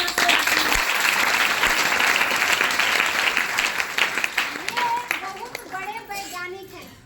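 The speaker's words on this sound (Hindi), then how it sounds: "जोरदार ताली।" An audience at a business seminar claps loudly and steadily, the applause thinning after about five seconds as voices, including children's, come through.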